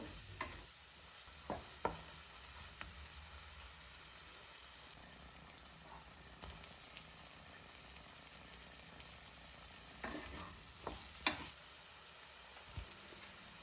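Spice paste with tomato sautés in a pan for a dry fish curry, a faint continuous hiss with occasional light scrapes and taps of a spoon, low and steady throughout.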